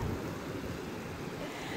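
Waves roll in at Grand Beach Resort as a steady, fairly quiet wash of surf and water noise that holds unbroken for a couple of seconds, with no talking.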